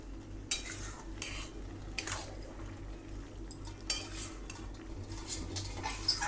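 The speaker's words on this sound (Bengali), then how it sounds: "এতে দেব আমি 1 চামচ জিরের গুঁড়ো, দিয়ে এটাকে আবার ভালো করে মিশিয়ে নেব।" Metal spoon stirring and scraping cumin powder through a bottle gourd and prawn curry in a pan, with soft irregular clinks and scrapes over a low steady hum, nearby and fairly quiet.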